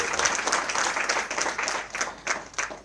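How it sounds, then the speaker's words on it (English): An audience claps steadily at the opening of a US consulate in Bengaluru, a dense, even wash of many hands filling the room throughout. "Please give him a round of applause and thank him for that."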